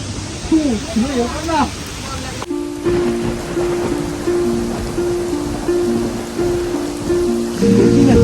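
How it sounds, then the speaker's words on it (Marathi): A hillside waterfall near Khopoli rushes steadily in the background while a person speaks briefly at first, followed by a sustained tonal hum. "डोंगरावरनं कसला छान असा धबधबा तुम्हाला इकडे पाहायला भेटेल"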